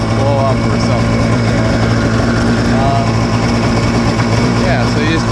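A DASA engine fitted in a cheap jet ski idles steadily at raised idle during break-in, with a hose running, a continuous loud droning hum with strong low harmonics and no pauses, while faint voices talk underneath.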